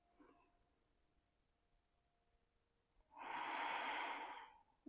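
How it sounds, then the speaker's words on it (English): A person breathing during a power yoga flow, one long, breathy exhale close to the ear after a quiet stretch, no talking. "Inhale and exhale."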